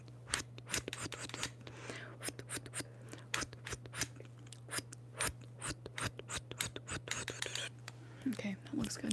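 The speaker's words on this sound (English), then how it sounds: "some patty ASMR scissor sounds" Scissors snip close to the microphone in a rapid, uneven stream of crisp cuts during an ASMR session, over a steady low hum, with faint whispery sounds between the snips.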